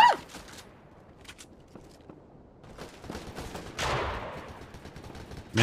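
Bursts of gunfire from a shooter video game, a couple of sharp shots with a louder shotgun-like blast near the end, over low game ambience, with no talking.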